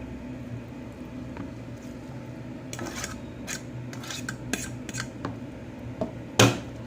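Ground chicken burger mixture with salt being stirred in a bowl, a spoon scraping and clinking against the sides in scattered taps and rasps, ending with one louder knock, with no talking.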